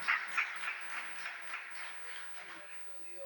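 A church congregation claps and applauds steadily for a few seconds during a Sunday service, a dense wash of hand claps with voices mixed in.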